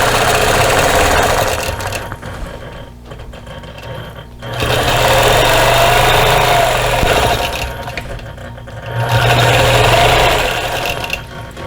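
A sewing machine stitches straight quilting lines on a cactus basket wall hanging, a loud, steady close whir running in long bursts with brief slowdowns between them.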